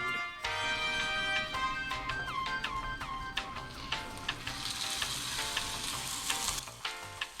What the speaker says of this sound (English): you're going to place your steak in the cast iron pan, and you'll know it's hot enough when you hear this sound